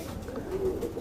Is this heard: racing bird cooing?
yes